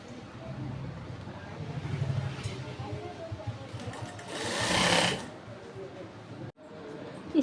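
A sewing machine stitches elastic onto men's Bermuda shorts, a steady close mechanical whir that runs under light background noise, swells to a louder burst near the end of the run, then stops briefly and restarts.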